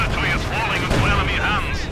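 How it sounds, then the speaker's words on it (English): Rocket barrage in Company of Heroes 2 gameplay: a dense, continuous roar of rapid launches and explosions, loud and sustained for the whole stretch. "do a rocket barrage"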